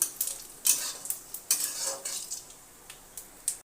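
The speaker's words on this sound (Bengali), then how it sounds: "এতে দিয়ে দেব গোটা জিরে, শুকনো লঙ্কা, তেজপাতা দিয়ে ভালোভাবে নেড়ে নিলাম।" Whole cumin seeds, dried red chilies and bay leaves are stirred in hot oil, a spoon scraping and clinking against the pan in irregular strokes over a light sizzle, close and fairly loud, ending abruptly.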